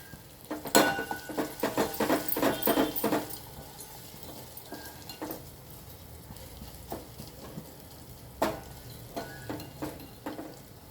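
Spices tempering in a pan on a stove for tomato chutney, with a soft crackling sizzle and a burst of scraping stirring clatter early on, then scattered pops and spatula taps.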